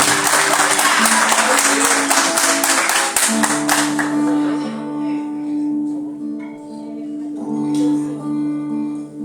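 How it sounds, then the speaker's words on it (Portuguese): A church congregation claps loudly together for about four seconds, then the applause fades into sustained tones of music or singing with voices. "pode aplaudir o Senhor, por favor?"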